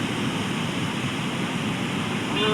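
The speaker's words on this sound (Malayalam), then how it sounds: "ഷട്ടറിലൂടെ വെള്ളം പുറത്തേക്ക് വരുന്നത് കാണാം." Steady broadband roar of water rushing out through the shutters of Aruvikkara Dam in Kerala, continuous and loud with no breaks, like a heavy waterfall close by.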